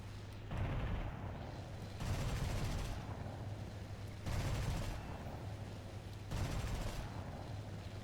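Bursts of rapid machine gun fire from a Messerschmitt Bf 109 K-4 in War Thunder, four sustained volleys about two seconds apart, separated by a steady engine drone.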